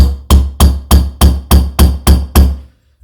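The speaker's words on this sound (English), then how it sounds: "I'll then give it a good couple of whacks" Hammer blows seating a valve in a Triumph Trident T160 cylinder head: nine sharp, evenly spaced metallic whacks, loud and close, each ringing briefly before the next, then a quiet tail.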